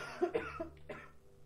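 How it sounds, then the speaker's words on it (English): A person lets out a few harsh, throaty coughs in rapid bursts, close and fairly quiet, with no other sounds around them. "I've got a really bad cough"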